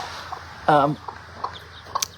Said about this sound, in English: this is a pretty chicken